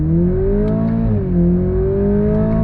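A 2022 Toyota Supra with the 2.0-litre engine pulls hard under throttle in sport mode, its loud droning note rising steadily, dipping briefly at a paddle upshift, then climbing again from close by.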